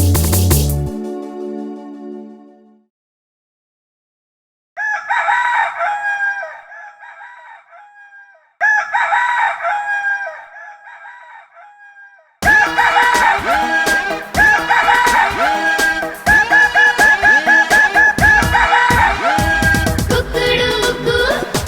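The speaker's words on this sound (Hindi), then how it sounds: "मुर्गा बोले कुकड़ू कु" Rooster crowing set in a Hindi children's nursery rhyme: two clear cock-a-doodle-doo calls follow a short opening, then repeated crows continue over a bright, loud musical backing.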